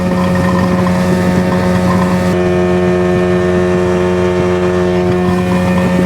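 A 40 hp Johnson outboard pushes a 16 ft Bass Tracker boat at top speed, its engine droning loud and steady with a strong constant hum throughout, close up with wind and water noise.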